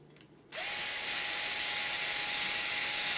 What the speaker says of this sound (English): Alright, we're going to drill it out.